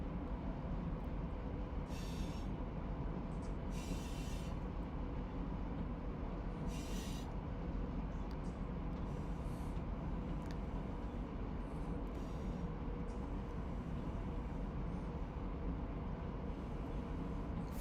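A BNSF freight train rolls past in the Run8 rail simulator, a steady low rumble of wagons with faint, intermittent higher squeals, continuous and fairly distant.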